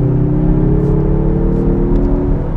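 Cabin engine note of a 2021 Mazda 3 Turbo AWD hatchback, a loud, steady low drone with smooth tonal hum and faint whir, heard from inside without talk.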